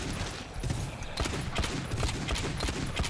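Dense, continuous gunfire in the co-op shooter GTFO, with rapid overlapping shots forming a loud, unbroken rattling barrage heard up close.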